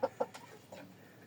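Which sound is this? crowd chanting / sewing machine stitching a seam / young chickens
young chickens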